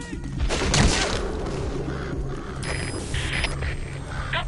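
A rapid gunfire volley in Metal Gear Solid V: The Phantom Pain, dense overlapping shots and thuds rolling on for several seconds at steady, fairly loud level with no clear talk.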